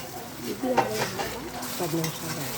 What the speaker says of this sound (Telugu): ఆ 3 టమాటాలు పేస్ట్ చేశాక దాన్ని ఉల్లిపాయలతో కలిసేదాకా తిప్పండి.